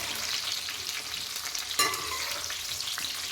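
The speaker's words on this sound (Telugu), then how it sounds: "ఇదిగో చూడండి మన మిరపకాయలు అయితే వేగుతున్నాయి కదా" Red chilies frying in hot oil, a dense steady crackling sizzle heard close and alone, with one sharp clink or stir partway through.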